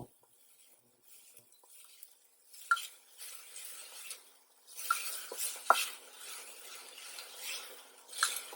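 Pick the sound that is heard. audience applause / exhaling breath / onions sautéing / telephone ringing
onions sautéing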